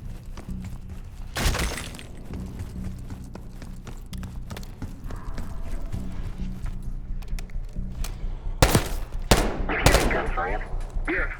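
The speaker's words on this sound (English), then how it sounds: "Gunfire? Yeah. Sounds like they're coming from one of the lower floors." Gunfire echoing from lower floors of a building in Call of Duty Black Ops 6, with several sharp, loud shots in bursts over a muffled ambient bed of footsteps and movement.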